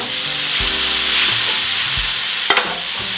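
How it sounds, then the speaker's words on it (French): Sliced bell pepper and onion sizzle steadily in a thin layer of olive oil in a frying pan, a continuous bright hiss with a few soft clicks and knocks of a spatula, no voices. "huile d'olive spéciale cuisson, un petit fond, poivron, oignon dans la poêle"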